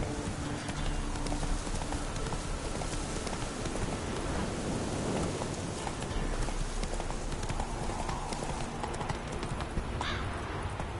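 Roach, the horse in The Witcher 3, gallops in steady rapid clip-clop hoofbeats, with a brief whinny and light rain-like ambience behind, loud and continuous.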